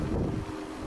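Strong wind buffets the microphone during a weekly bike ride on a road, making a loud low rumbling roar for a brief moment, with no speech.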